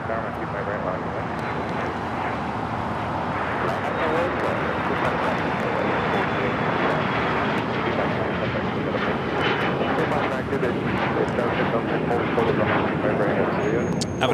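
An American Airlines plane takes off from runway 25 right at Los Angeles International Airport, its engines building into a loud, sustained roar that holds steady for the whole stretch, with a voice talking over it.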